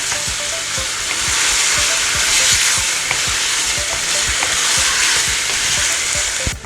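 Chicken, mostly dark meat, stir-fries in a hot pan with a loud, continuous sizzle, crossed by regular soft scraping and tapping strokes as it gets tossed; no voices.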